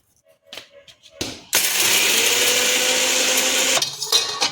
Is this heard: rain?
no